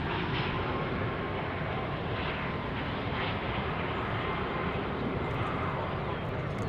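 An Alaska Airlines airliner in special livery roars steadily at DFW airport, a broad continuous engine rumble heard from a distance without letting up.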